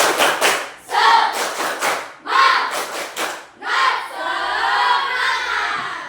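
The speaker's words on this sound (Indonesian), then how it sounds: "Tepuk semangat dulu biar lebih semangat" A class of children chant loudly together while clapping in a rhythmic pattern in a classroom, close and energetic.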